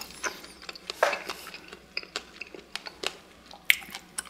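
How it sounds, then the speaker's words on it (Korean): Crunchy, close chewing of a tuna-mayo triangle gimbap with something crisp inside, a quiet series of irregular sharp crunches and bites with soft mouth sounds between them. "참치마요 삼김인데 안에 뭔가 아삭하니 씹히는 게 있어서"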